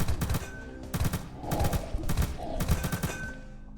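Rapid automatic gunfire from a high-recoil gun in a sci-fi shooter game set aboard a derelict alien-infested ship, firing in several loud bursts with short pauses between them.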